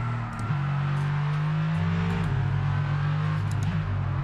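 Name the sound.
safety car engine roar in video game F1 22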